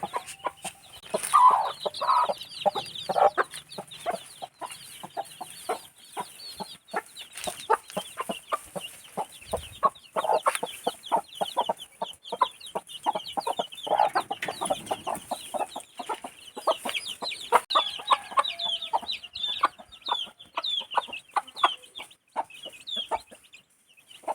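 Farmyard hens with their chicks cluck repeatedly in quick, irregular bursts, fairly close and clear, with a steady chatter of soft calls and occasional louder squawks.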